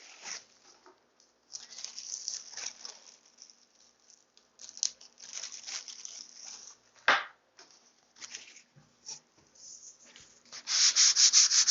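A 220 fine grit sanding pad worked by hand over painted wood to distress the finish, giving close, scratchy rubbing strokes in irregular bursts with brief pauses and a harder, faster run at the end.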